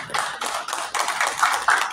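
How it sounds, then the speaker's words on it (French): Applause at a public gathering of government representatives, a brief patter of hand claps in uneven bursts, fairly close and steady over two seconds. "demander un applaudissement pour CPTA"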